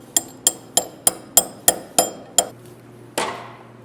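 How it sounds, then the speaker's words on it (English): A metal bushing hammered down through stacked Canadian Tire hockey pucks, eight sharp evenly spaced metallic strikes close by, then a pause and one final heavier blow. "Drive our bushing down through both."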